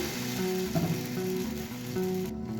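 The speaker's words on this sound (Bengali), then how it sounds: "আবার ওই তেল মাখানো কাপড়ের টুকরোটা তাওয়ার গায়ে বুলিয়ে নিলাম। এক হাতা ব্যাটার দিয়ে দিলাম" A ladleful of rice batter sizzles on an oiled tawa while being cooked for sorucakli, a steady close hiss of frying with faint scraping and rhythmic tapping underneath.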